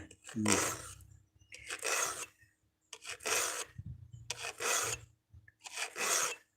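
A file rasps against a pruning saw blade in five steady strokes with brief pauses between, close and scratchy, no talking.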